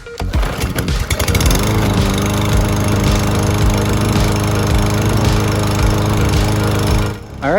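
A Troy Bilt lawnmower with a newly replaced ignition coil starts with a rattling pull, then its small engine settles into a steady, loud drone close by before cutting off at the end.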